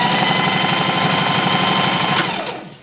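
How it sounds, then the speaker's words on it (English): A sewing machine runs steadily, joining two fabric strips on a 5/8 inch seam at roughly a 2 to 3 mm stitch length for puffy ballgown trim. The close, continuous buzz lasts nearly three seconds, then fades out as it stops. "we're going to just sew these 2 pieces together so we have a longer strip"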